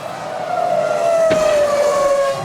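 A 2005-season Formula 1 race car skids on cold tyres with a long, loud, steady squeal, and a brief sharp crack cuts through midway.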